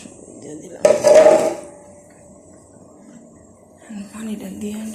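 A cooking pot of fish is covered with its lid after water is added, producing one short clattering metal clank near the start, followed by quiet and faint background voices.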